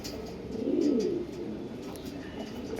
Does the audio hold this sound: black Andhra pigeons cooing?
yes